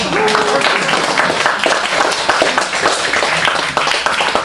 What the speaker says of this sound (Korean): 이럴 때 박수를 쳐주면